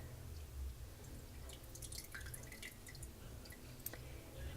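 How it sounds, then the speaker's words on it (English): Juice from a small-mouth jar of home-canned smoked brisket drips and trickles intermittently in quick, faint patters, close by and with no voices. "Draining off some of the juice."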